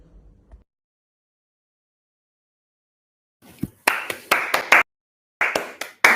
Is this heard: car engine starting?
no